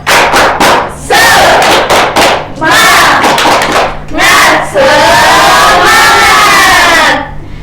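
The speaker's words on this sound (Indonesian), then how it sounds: "Tepuk semangat." An elementary school class performs the tepuk semangat chant, sharp unison hand claps in quick rhythmic groups alternating with loud shouted group chanting, all close and energetic in a classroom.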